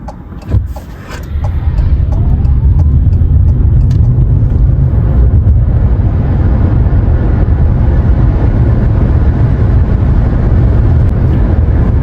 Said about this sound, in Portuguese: 0 a 100 com o Fiat 500 elétrico.